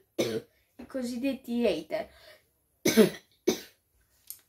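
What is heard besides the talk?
coughing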